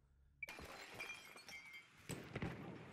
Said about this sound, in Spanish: está rompiendo los cristales este y me está poniendo nervioso